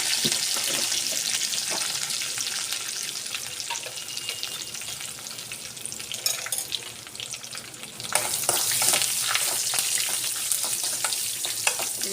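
Dried red chillies and curry leaves frying in a hot pan, a dense continuous crackling sizzle with scattered pops and occasional stirring scrapes, growing louder partway through.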